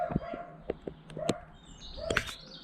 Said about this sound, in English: nutcase dog going mental over there, and it wasn't even mine